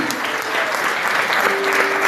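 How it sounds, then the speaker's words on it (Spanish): A congregation breaks into loud, dense applause during a sermon, with the clapping sustained and even throughout. "Eso merece un aplauso, creo."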